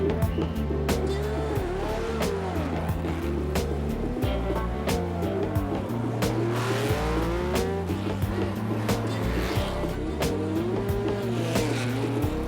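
Race cars of the 2004 Tour Auto roar past on a city street and circuit, engines revving up and down through gear changes with tire squeal, loud and continuous with no pauses.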